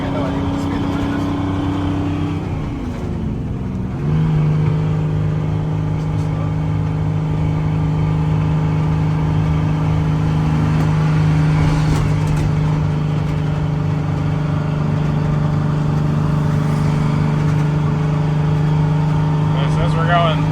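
An International cabover truck's diesel engine drones steadily on a test drive, a loud, close cab-interior rumble with a shift in pitch early on and people talking over it.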